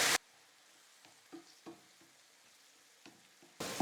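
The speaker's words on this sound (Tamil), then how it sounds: "கொத்தமல்லியோடைய பச்சை மணம் போகிற வரைக்கும் நல்லா நம்ம வதக்கிக்கலாம்." Green chili and coriander paste sautéing in a pan gives off a faint, quiet sizzle with scattered soft crackles, swelling into a brief louder hiss at the very start and end; no one talks.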